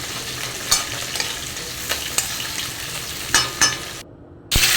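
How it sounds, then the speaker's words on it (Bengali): Fish heads and vegetables sizzle steadily in a hot wok while a utensil scrapes and stirs with sharp intermittent clanks; no one speaks. "এরপর গরম কড়াতে দিয়ে দিচ্ছি মাছের মাথা দুটো এরপর সবজিগুলো আবারও ভাজছি"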